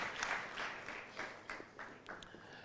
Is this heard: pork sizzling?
no